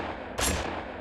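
Gunshot sample in a dark, glitchy trap beat: a single short, loud burst of noise with a booming tail, standing alone after a moment of quiet, with a faint hint of another hit at the very end.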